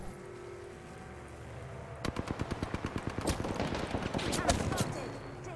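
Rapid automatic gunfire in an Apex Legends match, a quiet stretch breaking into a loud, sustained burst of rhythmic shots with overlapping impacts, continuing steadily to the end.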